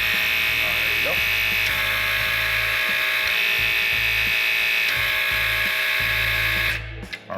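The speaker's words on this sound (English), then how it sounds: "Dial that pressure all the way up, making sure it's dialing up to maximum pressure setting. And I'm going to release it." An HY-115 hydraulic pump runs at its maximum pressure setting with a steady, loud electric motor whine and low hum, broken by small shifts in tone, then cuts off abruptly when the pressure is released near the end.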